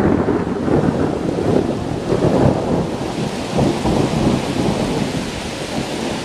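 Thunderstorm outdoors with steady rain and low rolling rumbles of thunder, loud and continuous throughout, with wind buffeting the microphone and no talking.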